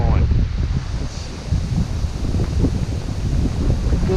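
Gusty prairie wind blowing outdoors in fall, a steady broadband rush with buffeting low rumble against the microphone, fairly loud and continuous, with a voice faintly present underneath.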